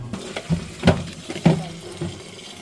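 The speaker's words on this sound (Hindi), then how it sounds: "उसमें पानी डाल दीजिए चावल में।" Water pours from a tap over soaking rice held in a steel strainer in a home kitchen, making a few uneven splashing bursts over a low running-water wash, with no talking.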